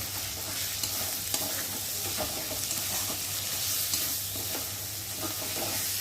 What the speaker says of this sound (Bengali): স্বাদ মতো নুন, লঙ্কার গুঁড়ো, হলুদ গুঁড়ো দিয়ে মশলাটা ভালো করে কষিয়ে নেব।